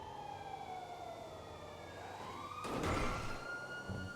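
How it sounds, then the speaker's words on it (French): A distant siren wails with rising and falling tones, faint under steady background noise, with a brief burst of closer noise near the end. "il y a des sirènes là, c'est en haut ou c'est en bas?"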